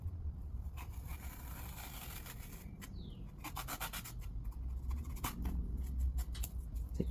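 Quiet scraping and slicing as a blade cuts adhesive-backed carpet covering on a boat trailer bunk, working from the outside, with soft intermittent rasping strokes over a low background hum.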